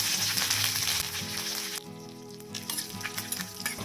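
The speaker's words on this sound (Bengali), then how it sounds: "গরম ঘিতে ফোড়ন দিচ্ছি 1/2 চা চামচ পরিমাণ কালো সর্ষে, 2টো শুকনো লঙ্কা আর সামান্য কিছু কারি পাতা ফোড়ন দিচ্ছি।" Black mustard seeds, two dried red chillies and curry leaves crackle and sizzle loudly in hot ghee, a busy close-up frying hiss with sharp popping that eases a little partway through, with no talking.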